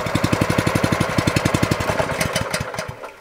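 A Protea 510 grass groomer's small engine runs close by with a rapid, even thumping pulse, then sputters, slows and dies away into near silence over about three seconds.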